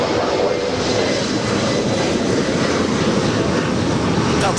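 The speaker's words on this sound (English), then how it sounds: "Delta Airlines flight 480 heading to Honolulu to 757-200, rolling down 24 left." A Delta Boeing 757-200 bound for Honolulu rolls down runway 24 left at Los Angeles airport on its takeoff run, its engines producing a loud, constant, unbroken roar throughout.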